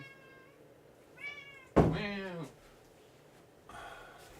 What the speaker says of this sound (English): I need to let my cat in because he's scratching at my door